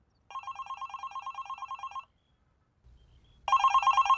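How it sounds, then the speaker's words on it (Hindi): A telephone bell rings in two bursts, a steady trill of about two seconds, then a short pause with a low rumble, then a louder ring starting again. "मुझे देखते ही फोन कान पे लगाते हो और तुम्हारा फोन भी तभी बजता है"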